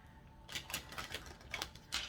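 Quick bursts of papery riffling as a deck of tarot cards is shuffled, several short flurries in a row, close and fairly soft, with no talking.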